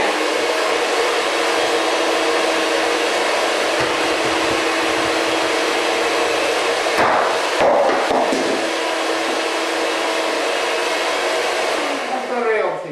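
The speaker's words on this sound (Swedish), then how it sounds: "Och så rör jag också en lite smidig smet." Flour batter for a Swedish klickkaka being stirred, heard as a steady, even whirring that runs loud and unbroken, with a brief rougher clattering patch partway through and the noise dying away at the end.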